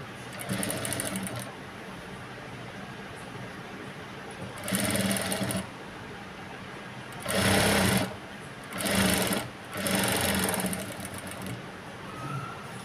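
A sewing machine stitches blouse lining cloth in short bursts, running in four or five separate spurts with brief pauses between, close and steady with no talking.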